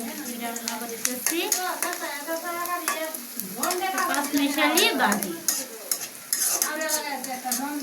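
Onions frying in oil in a home kitchen for a mixed vegetable dish, a soft steady sizzle under repeated stirring and utensil scrapes, with someone talking over it throughout.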